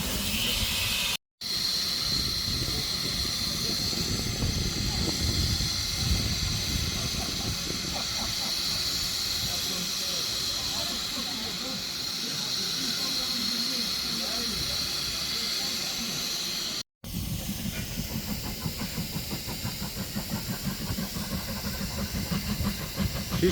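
Steam locomotive on the Severn Valley Railway at a spring gala, with a steady, loud hiss of escaping steam running throughout, broken by two brief dropouts, while people talk nearby.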